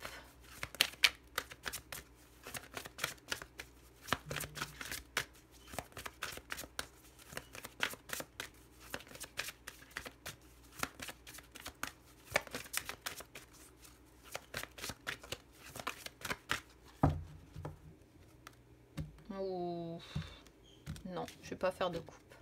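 A deck of tarot cards is cut and shuffled by hand, giving continuous dense riffling and flicking for most of the stretch, close and steady, with a few brief scrapes and rustles near the end.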